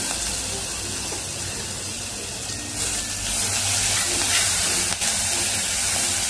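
Crushed green chilli paste dropped into hot oil in a pan, a steady loud hiss and sizzle that swells partway through and holds, with no voices.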